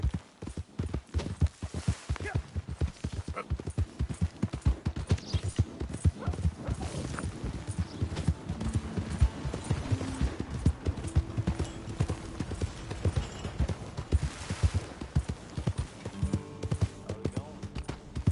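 Steady clip-clop of horse hooves trotting at a quick, even rhythm in Red Dead Redemption 2, with occasional voices and game sounds over it.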